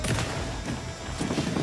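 Double-barreled shotgun blasts from the video game Alan Wake 2, loud booming shots at the start and again near the end over a dense, noisy game mix.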